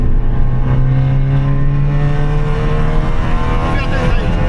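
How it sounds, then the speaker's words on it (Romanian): A car spins around as its engine revs steadily with a rising, sustained tone, close and loud, while people talk over it. "Se învârte mașina."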